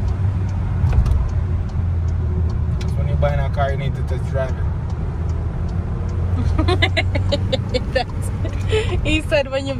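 A low, steady engine and road rumble fills the cabin of a car out on a test drive, with people talking almost continuously over it.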